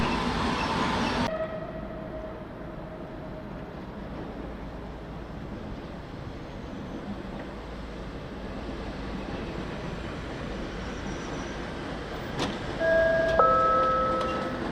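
A local passenger train at a station, a steady low rumble of the train with a broad hiss that runs continuously throughout, ending with a faint high tonal signal near the close.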